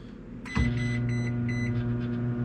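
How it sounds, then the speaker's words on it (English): A microwave oven starts with a click and settles into a steady low hum, with a few faint beep-like tones above it. "So we're going to microwave these."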